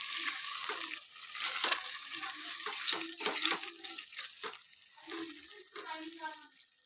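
Eggs are stirred into oil with fried onions and spices, giving a soft sizzle with scraping and wet stirring strokes in an irregular rhythm. A voice talks quietly over the cooking.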